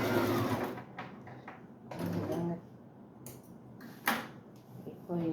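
Sewing machine stitching fabric in short bursts of mechanical whirring, stopping and starting, with someone talking between runs.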